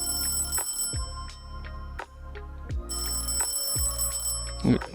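A telephone rings during an online gaming discussion call, its repeated trilling bursts sounding steadily over a low background hum, with brief clicks between rings.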